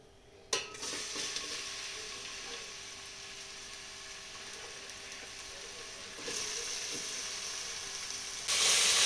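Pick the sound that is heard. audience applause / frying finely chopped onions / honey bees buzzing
frying finely chopped onions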